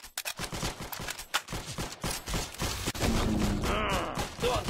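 Rapid gunfire in the Roblox shooter Arsenal, dense overlapping shots and bursts filling the whole moment, close and loud with no talk over it.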